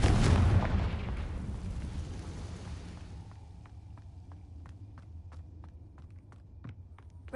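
A fire-blast spell in a fantasy video game goes off as a loud, close, low burst with a rumbling tail lasting about three seconds, followed by quieter sharp ticks.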